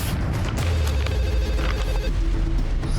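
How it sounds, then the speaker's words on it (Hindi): A telephone rings over a dense, loud background of low rumbling noise, the ringing tone persisting through the clip. "देखो किसका फोन।"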